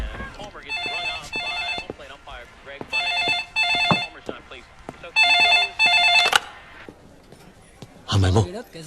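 A telephone rings in repeated loud electronic bursts, several separate rings spaced a second or so apart, with people talking in between.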